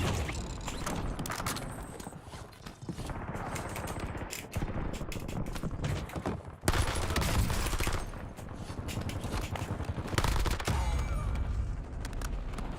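Rapid automatic gunfire from the video game Warzone fills the scene, sharp shots in quick bursts and sustained strings with mechanical clatter between, loud and near throughout, no talk heard.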